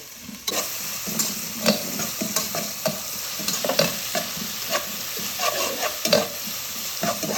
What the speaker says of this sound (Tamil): வெங்காயம் வந்து நல்லா எல்லோ கலரில் ஆகிற வரைக்கும் போட்டு எண்ணெயில் போட்டு வதக்கலாம்